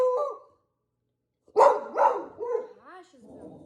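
A dog barks several times in close succession, loud and near, then gives softer whining yips, after a person's brief speech at the start.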